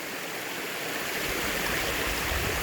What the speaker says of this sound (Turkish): Dere muhteşem